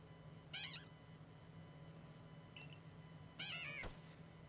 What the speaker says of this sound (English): Its little meow is adorable as well.